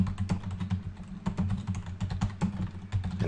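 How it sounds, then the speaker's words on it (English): Steady, rapid typing on a computer keyboard while a cookbook name is entered in recipe software, with close, crisp key clicks in an uneven rhythm and no voices. "And type in the name of my book."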